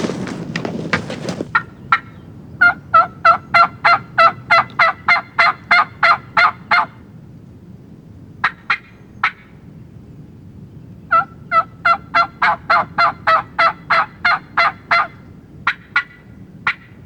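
Wild turkey gobblers call during a spring hunt among hens, starting with a brief rattling burst. Long, evenly spaced series of loud, sharp notes follow, with short pauses between the runs, against a quiet outdoor background.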